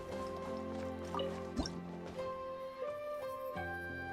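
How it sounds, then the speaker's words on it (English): Water droplets drip from a wall in a video game, several distinct plinking drips spaced irregularly over soft, tonal background music, fairly quiet overall. "another water droplet just came out from the wall!"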